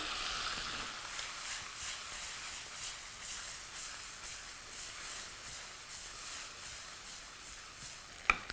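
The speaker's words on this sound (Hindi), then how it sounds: "ढाबे वाला तड़का लग रहा है ना" Steady high-pitched sizzling of spices frying in hot oil for a dhaba-style tadka, continuous and close, ending with a sharp brief clatter.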